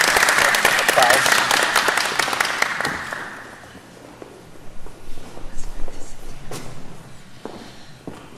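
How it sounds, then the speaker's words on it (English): A church audience at a diversity seminar gives a warm burst of applause welcoming Dr. Chung that fades over about three seconds, followed by footsteps, rustling and soft room noise. "why don't we welcome Dr. Chung with our now applause"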